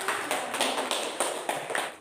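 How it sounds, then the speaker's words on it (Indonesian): A classroom group claps for a presenting team, a loose, steady patter of hands that fades toward the end. "Beri tepuk tangan yang meriah untuk kelompok 3"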